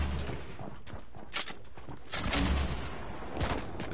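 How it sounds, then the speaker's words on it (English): Rocket launcher fire in the video game Fortnite, several loud bursting blasts at irregular intervals over a steady background, with no talking. "Oh, we're doing rocket launchers."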